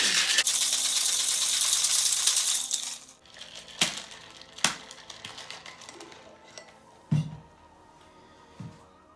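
A Halloween witches brew cocktail rattling hard in a shaker, a loud continuous ice-and-metal clatter lasting a few seconds up close, then stopping, followed by a few scattered clinks and knocks.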